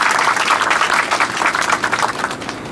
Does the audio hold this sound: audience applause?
yes